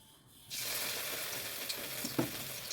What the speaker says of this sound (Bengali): কড়াতে আমি তেল দিয়ে দিয়েছি তেল গরম হয়ে গেছে আমি এবার একে একে বড়াগুলো দিয়ে দিচ্ছি